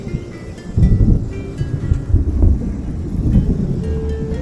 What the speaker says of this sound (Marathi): आकाशात गडगडत आहे